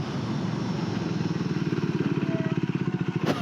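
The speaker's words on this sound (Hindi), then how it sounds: "अब मैं करता हूँ पैनिक ब्रेकिंग दोनों ब्रेक के साथ ताकि आपको दिखा सकूं।" A Triumph Tracker 400 motorcycle runs with a close, throbbing engine pulse that grows more distinct as it slows under hard braking on both brakes. A brief clatter comes at the end.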